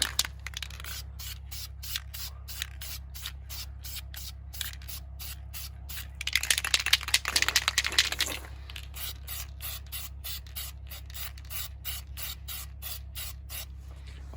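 A final light feathering coat of spray paint on a car part, heard as one longer hissing burst in the middle over a loud constant low hum and a fast, regular ticking that runs throughout.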